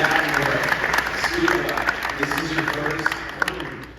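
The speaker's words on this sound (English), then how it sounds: "Give a round of applause" An audience applauds at a Q&A for the 2023 horror film Thanksgiving, a sustained, dense roar of clapping with scattered sharp claps, while voices talk and cheer over it.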